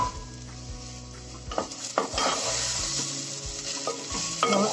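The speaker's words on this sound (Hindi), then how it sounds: "अब इसको हम ढक देंगे, बीच बीच में चलाएंगे।" Spoon stirring stuffed okra with gram flour and onion in a pan over low heat, soft scraping strokes over a steady oil sizzle, close and fairly loud, with occasional clinks of utensil on pan.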